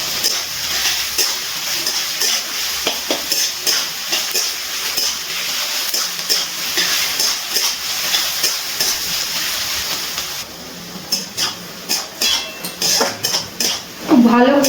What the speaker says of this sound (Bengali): পেঁয়াজগুলো কিন্তু খুব ভালো করে লাল লাল করে ভেজে নিতে হবে।